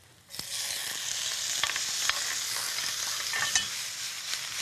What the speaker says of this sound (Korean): 바지락살을 조금 붓겠습니다